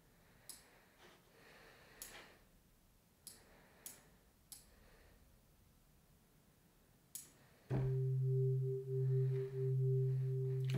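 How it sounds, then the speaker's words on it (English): Arturia CMI-V software synth voicing a sine wave with its third harmonic added, a steady sustained electronic tone entering alone after several faint clicks, loud and continuous with a brief dip partway through. "If I add the third harmonic in as well, we're going to get something that's a little bit closer to a square wave."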